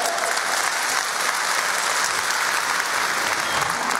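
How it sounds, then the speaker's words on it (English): A training-event audience applauds, dense and loud clapping from a large crowd that fills the whole stretch at an even, sustained level with no voices on top. "They get a big applause."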